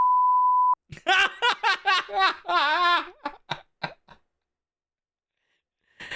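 A single flat censor beep sounds briefly before laughter and chatter break out, then the talk trails off into near silence.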